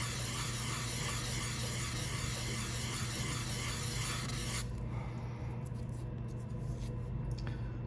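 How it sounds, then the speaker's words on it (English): Sandpaper rubs back and forth over cured resin in a steady, fine rasping scratch, close and continuous, easing to lighter strokes partway through. "So we're gonna do that with this sandpaper maybe about like 30 times."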